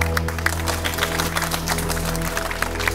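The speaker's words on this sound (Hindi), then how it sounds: "आप इनके इस अति साहसिक कदम के लिए उत्साहवर्धन के लिए तालियों से इनका स्वागत करें" An audience at a gathering claps to welcome two journalists on stage. Brief, steady, moderately loud applause of many hands, with a low droning hum underneath.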